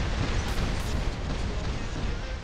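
The Harpy robot's built-in weapon fires in War Robots, a dense, roaring blast of heavy explosive noise that holds steady and loud for the whole stretch.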